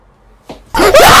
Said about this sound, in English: This looks like the perfect time to scream at the top of my fucking lungs.